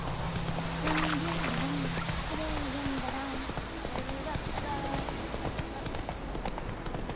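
Roach the horse trotting in The Witcher 3, with rhythmic clip-clop hoofbeats running steadily throughout under a voice talking.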